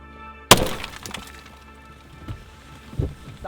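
A single gunshot fired through a vehicle windshield gives a sharp, loud crack with a brief glassy shatter that fades quickly, followed by a few faint knocks and shuffling.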